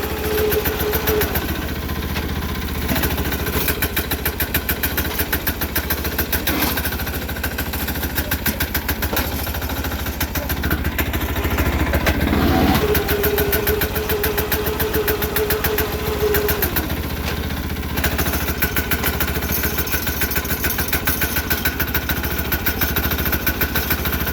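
Sears Suburban 6HP diesel tractor engine idling, a loud, close, steady rapid chugging knock that continues without a break throughout.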